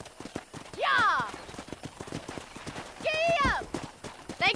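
A horse is ridden in Red Dead Redemption: a brisk run of hoof clip-clops drives steadily throughout, broken by two loud whinnies, near and clear above the hoofbeats.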